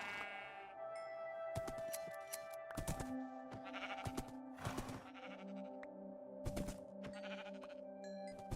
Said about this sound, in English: I'm going to shear up these sheep